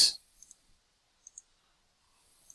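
Computer mouse clicks on an Ubuntu desktop: a few sharp, faint, close clicks spaced apart, including a quick pair in the middle, over near silence.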